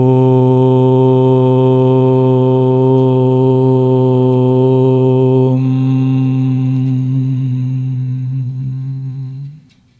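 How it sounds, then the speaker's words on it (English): A group chants a long, sustained Om together, a steady, rich drone held loud and even for several seconds, shifting from the open vowel to a humming close before fading out. "Let us say Om together"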